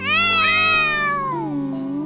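A kitten gives one long, loud, close meow that slides downward in pitch and trails off, heard alone with no talking.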